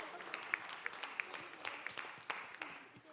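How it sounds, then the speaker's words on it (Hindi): Scattered audience clapping at a press conference for the 17th anniversary of the Taarak Mehta show, a thin ripple of claps with a few sharper individual hits, fairly faint and fading out. "एक बार जोरदार ताली हो जाए अर्जी के लिए यार।"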